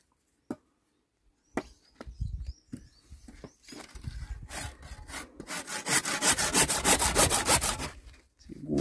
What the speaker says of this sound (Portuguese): Serrote novo.